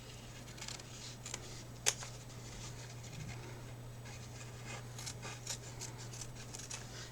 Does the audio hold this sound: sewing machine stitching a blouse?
no